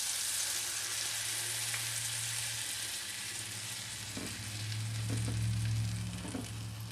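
Bass fillets sizzle and crackle steadily in a hot pan, a loud continuous fry with a low hum beneath and a few sharper pops near the end.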